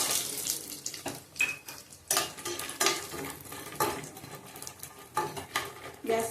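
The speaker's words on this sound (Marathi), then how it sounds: "आता डिंक चांगला भाजून झालाय, ह्यातच आपण बदाम भाजून घेऊया." Almonds roast in hot ghee in a pan, with soft sizzling under repeated scraping and stirring clinks of a spoon against metal, close and fairly quiet.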